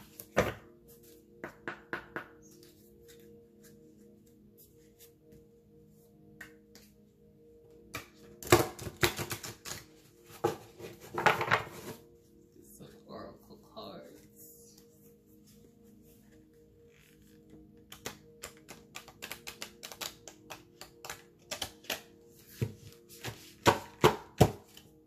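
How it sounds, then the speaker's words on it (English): Oracle cards are shuffled and handled in quiet bursts of riffling, tapping and thudding clatter, separated by stretches of near silence. "Let's get some oracle cards."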